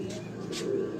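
Pigeons coo softly on a rooftop loft, a steady low murmur of cooing with a couple of brief brighter calls, close by and continuous for a moment.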